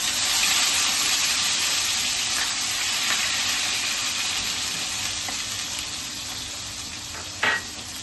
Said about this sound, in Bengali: তেলটা ছিটকাচ্ছে, যার জন্য আমি একটুখানি নুন দিয়ে দেবো যাতে তেলটা না ছেটায়।